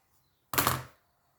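A single short, close snip as scissors cut through a bundle of tulle pieces, a crisp rustling cut lasting about half a second in an otherwise quiet room.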